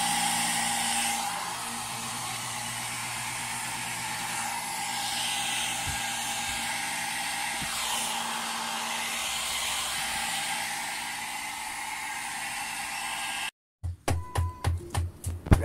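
A handheld blower roars steadily and continuously while drying freshly printed paint, a loud broadband hiss with a steady hum, then cuts off abruptly into a few clattering handling sounds.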